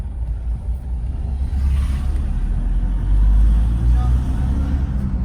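Several motorcycles from a group of bikers pass on a road on the way to the Sariska gate, a steady loud engine rumble that swells near the middle and end, with faint voices beneath.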